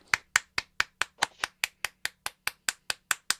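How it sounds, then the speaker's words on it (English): A single person claps slowly and steadily, about fifteen sharp, evenly spaced claps, close and clear with no other sound around them. "You can all applaud now."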